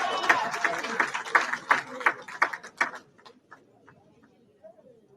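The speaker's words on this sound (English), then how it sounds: "Let's give John a round of applause" Audience at a community event applauding someone called up to the front: a few seconds of sparse, distinct handclaps from a small group that quickly taper off into quiet.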